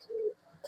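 Rolling pigeon cooing once, a short low throaty coo up close, followed by a brief soft rustle and a faint higher call near the end.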